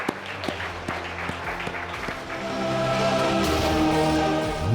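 Audience applause for Amitabh Bachchan at the close of a televised chat, building to a steady clapping wash in the second half, with tonal music playing underneath throughout.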